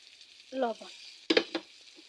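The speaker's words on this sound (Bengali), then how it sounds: "শুটকিগুলো দিয়ে দিয়েছি তেল, কড়াই, সব মশলা দিয়ে" Dried fish fries in oil with spices in a wok, giving a steady, fairly quiet sizzling hiss underneath, broken by a couple of brief voiced sounds and a clatter.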